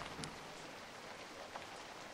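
Rain falls in the video game Fran Bow, a steady hiss of dense drops with a few faint distinct patters, heard alone with no voices.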